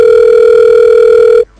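Steady telephone dial tone in a Farming Simulator game, loud and continuous for about a second and a half before cutting off abruptly into near silence.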